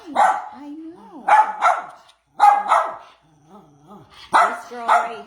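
Several rescued dogs from a hoarding case bark in loud, clustered bursts with short yips and whimpering whines between them, close by, with a voice also heard among them.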